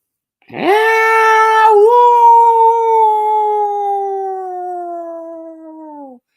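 A person imitates a wolf howl: one loud, sustained tonal cry that rises sharply, wavers briefly, then holds and slowly falls away for about six seconds, with nothing else behind it.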